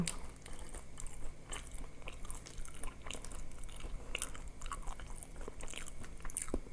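Crispy vegetables being bitten and chewed close to the mic, a steady run of crunchy, wet bites and chews with no talking.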